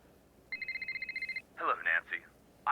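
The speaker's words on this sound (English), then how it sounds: "Nancy gets a phone call again." A telephone rings in the Nancy Drew video game The Deadly Device, a rapid electronic trill repeating in short even pulses for about a second, followed by a few brief louder tones after it stops.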